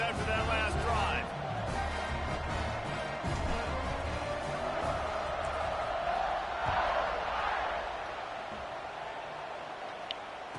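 A crowd roars steadily in a college football video game stadium as the kickoff unit takes the field, a broad continuous swell that lifts for a moment and then eases under a commentator's voice.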